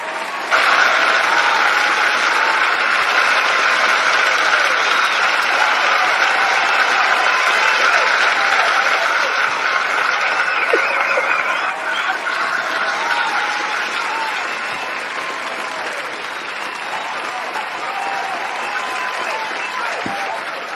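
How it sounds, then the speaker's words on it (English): Sustained applause and clapping from a crowd, played as a welcome for a guest, loud and dense throughout before easing slightly toward the end, with no talking over it. "It's claps all the way around because my sister's in the building."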